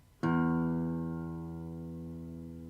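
A single plucked old guitar string rings out and slowly decays, its sustained tone wavering slightly in pitch, drifting a little sharp, as it fades.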